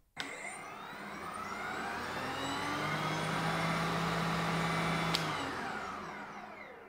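A SKIL electric snowblower spins up from a click into a rising, smooth whirring hum that settles at a steady pitch and holds for several seconds, close by.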